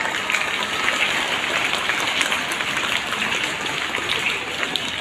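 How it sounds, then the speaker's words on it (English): Steady, dense applause from an audience at a school investiture ceremony, a continuous rain-like patter of clapping holding at an even level throughout without breaks. "We also give a big round of applause to them."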